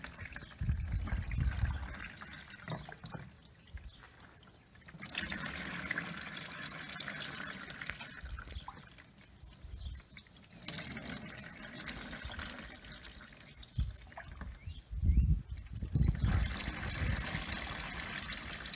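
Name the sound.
plain tap water poured over ice dye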